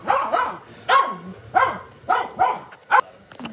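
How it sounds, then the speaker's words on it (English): A female dog barks repeatedly at a running vacuum cleaner indoors during Christmas tree setup, about six sharp close barks in irregular bursts with brief whines between. "Don't mind my dog barking."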